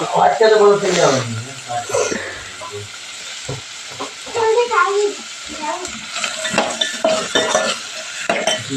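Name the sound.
frying and stirring tomatoes in a pan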